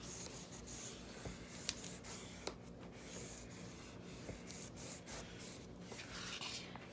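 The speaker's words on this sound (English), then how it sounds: "Use your bone folder to press it down really well" A bone folder rubs firmly over paper to press down adhesive while a 6x6 hinged album is assembled; a faint, steady dry scraping continues throughout, with a couple of small sharp ticks.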